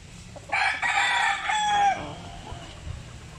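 Rooster crowing on a small farm among chickens: one loud, near crow of about a second and a half with a rising then falling tail, followed by faint clucking over low background rumble.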